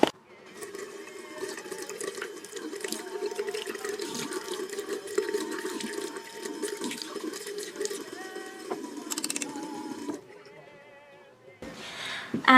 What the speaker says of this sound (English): It's just a matter of rinsing it out underneath a tap